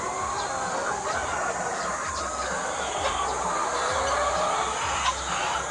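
Free-range backyard chickens clucking after feeding, a steady busy flock heard fairly loud and close against constant outdoor background noise, with no talking.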